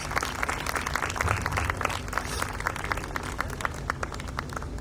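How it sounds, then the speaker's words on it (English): An audience at a book launch applauds as Rakesh Roshan comes on stage, giving sustained clapping with sharp individual claps standing out and a crowd murmur under it. "Give him a huge round of applause."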